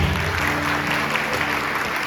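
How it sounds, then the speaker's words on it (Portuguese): A church congregation applauds during a sermon, a dense steady wash of clapping that holds at a moderate level throughout, with faint low tones beneath. "E vamos aplaudir a palavra de Deus com força"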